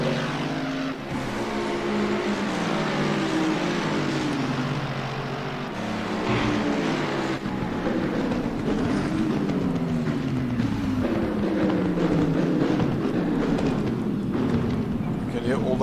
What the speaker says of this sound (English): You can hear all those cars changing down as they approach.